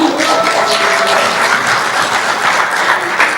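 Audience applause at a graduation ceremony for foreign students in Bejaia, a dense, steady wash of many hands clapping together, loud and sustained throughout with no voices over it.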